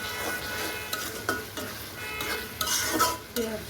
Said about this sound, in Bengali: মশলার মধ্যে ছোট ছোট পিস করে ইলিশ মাছ ঢেলে দিলাম।